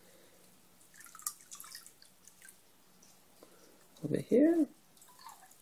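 Dissolved fertilizer is poured from a small cup into a 75-gallon planted aquarium, making a short, loud splashing gush near the end, after quiet talking.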